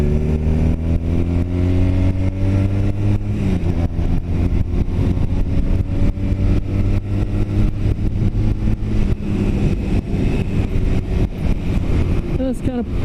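A Honda Rebel motorcycle ridden through rough city streets in St. Louis, its engine droning steadily up close and shifting pitch as it revs and changes gear, with wind noise and a voice talking over it.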